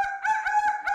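A person imitates a chicken with a loud, close, nasal clucking and crowing call, a few quick rising and falling squawks with no other sound around it.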